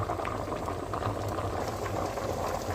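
Odiyal tubers boil in a pot, a dense steady bubbling and gurgling of water heard up close for the whole stretch, with no voices.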